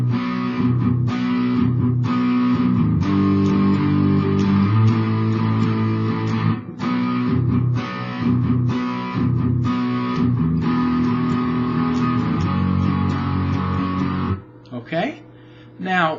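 A slightly distorted guitar strums through the chorus chord progression of a song, with loud, steady, close rhythmic chords that change every few seconds before a brief pause near the end.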